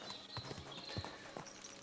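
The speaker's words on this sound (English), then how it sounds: "My horse just spawning like that." Horse hooves clip-clopping in Kingdom Come: Deliverance II, a steady run of soft, close hoof knocks against faint outdoor ambience.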